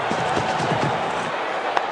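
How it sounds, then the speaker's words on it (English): A cricket stadium crowd at an India versus West Indies T20 match roars steadily after a six is hit, a dense, loud wash of cheering that holds without break. "Crowd's gone mad"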